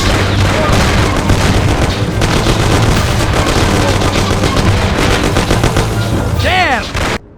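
Sustained gunfire from a firefight in the video game Mafia: The City of Lost Heaven, loud and dense with rapid overlapping shots, booming impacts and a shout near the end.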